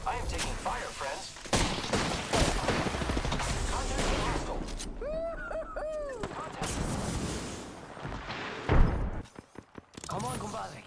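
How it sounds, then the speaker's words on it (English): Gunfire in a ranked battle royale shooter game, heavy bursts and rattling volleys of shots, some booming, mixed with talking voices and other game effects. "I am taking fire, friends."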